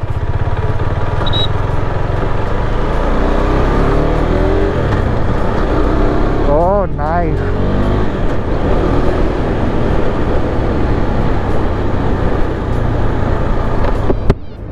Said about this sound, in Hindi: KTM RC 390, इसको थोड़ा चला के देखते हैं